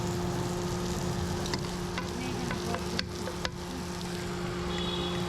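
Garlic frying in a steak pan while a garlic sauce is prepared for chicken ramen: a steady close sizzle, alone, with a few brief clicks of a utensil scraping the pan.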